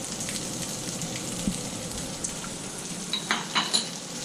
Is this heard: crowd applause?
no